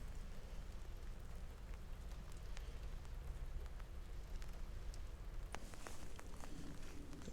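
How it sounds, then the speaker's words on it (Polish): Steady rain falls outdoors in a broad, even hiss with scattered nearer drops tapping a surface, continuous for several seconds with no talking. "Na łeb mi, kurwa, deszcz pada."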